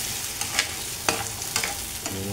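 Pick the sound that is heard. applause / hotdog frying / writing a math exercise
hotdog frying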